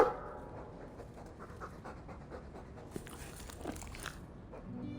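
A dog pants in Dragon Age II, quick, steady breaths heard close with some wet, chewing-like crunches mixed in, at a moderate level.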